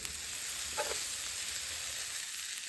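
Unsalted butter sizzles steadily in a hot pan alongside a ribeye steak, a constant bright crackling hiss that holds even throughout with no one talking.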